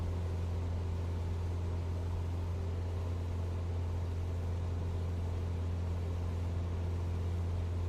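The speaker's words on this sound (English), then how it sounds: "Oh, we're over revving." Car engine held at high, over-revved speed, a loud constant drone with a strong steady low hum and no breaks, heard close with no talking over it.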